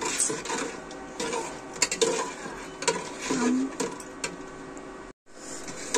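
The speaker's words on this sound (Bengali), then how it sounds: "এটা আমরা একটু নাড়াচাড়া দিয়ে নিই।" Haleem being stirred in a home cooking pot, with soft repeated scraping and clinks of a spoon against the metal, fairly close, steady over several seconds.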